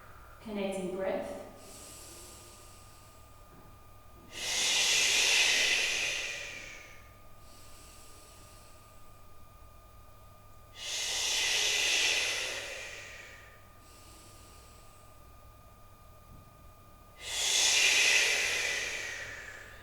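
Slow, controlled breathing during a beginner yoga flow, with three long, airy exhale-like whooshes spaced several seconds apart, close and fairly soft, with no talk.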